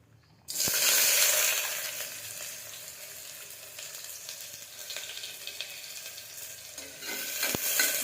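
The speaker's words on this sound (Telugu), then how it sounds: "కాగిన తర్వాత ఉల్లిగడ్డలు వేసుకోవాలండి" Onions dropped into hot oil burst into a loud, steady sizzle that settles into a continuous frying hiss, close and alone, with a couple of faint clicks near the end.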